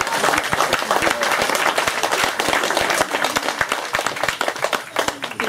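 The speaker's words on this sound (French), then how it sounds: "On les applaudit, s'il vous plaît." Wedding guests applaud at a wedding reception, a dense, steady wash of many hands clapping close by that fills the whole stretch, with faint voices mixed into the crowd noise.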